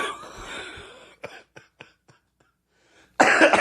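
A few sharp coughs spaced out after a stretch of noisy rustling, with a louder burst of sound breaking in at the end.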